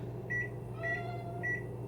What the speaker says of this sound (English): And then we're going to put it in the microwave